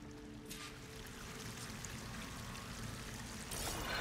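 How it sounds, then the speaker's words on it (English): A waterfall in Horizon Forbidden West gives a steady rushing roar of pouring water that swells louder toward the end, heard alone without talk. "The waterfall must be coming from somewhere."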